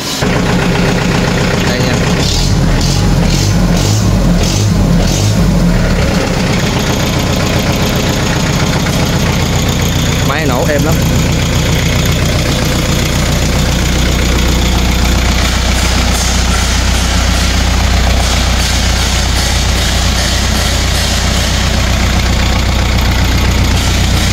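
A Kubota L4508 tractor engine idles steadily and fairly loud throughout, with a low, constant diesel throb and some clattering bursts early on; someone talks over parts of it.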